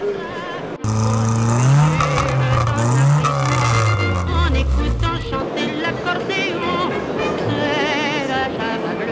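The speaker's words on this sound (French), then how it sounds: "C'est un moteur électrique en réalité qui lance le moteur" A classic Citroën car engine, cranked by an electric starter motor, abruptly fires up and revs loudly, its pitch swinging up and down before settling into a steady, close roar.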